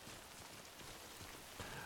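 Rain, the constant timefall of the Death Stranding video game, patters steadily and faintly as an even, soft hiss with a few slightly sharper drops near the end.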